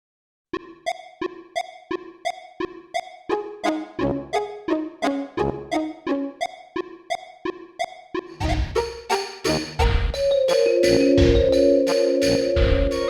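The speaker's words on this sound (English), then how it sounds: "And then there's another area of the game where the music sounds like this." Another piece of Final Fantasy VII area music for an audio adventure opens with a plucked, evenly repeating arpeggio figure that builds into a fuller, louder arrangement with deeper sustained tones.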